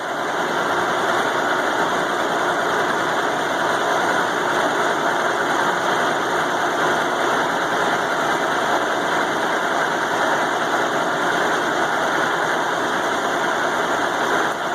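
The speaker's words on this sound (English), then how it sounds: "I'm using a 2-inch 4-flute end mill." A Sajo VF300 milling machine cuts a log splitter blade with a 2-inch four-flute end mill, taking a slow, steady pass; the loud machining drone holds constant throughout, with no talk.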